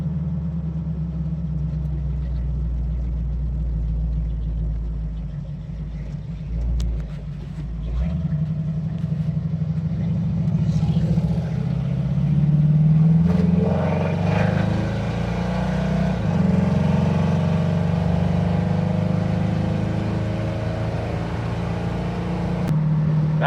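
A Ford Mustang's engine rumbles low and steady from inside the cabin on a test drive, its deep drone swelling in a couple of brief revs and then settling back, with no talk over it.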